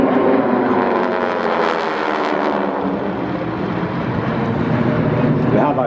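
A Harvard aircraft at the Wings Over Wairarapa 2021 air show roars past in a loud, sustained engine drone with rasping propeller tone, swelling and easing as it passes.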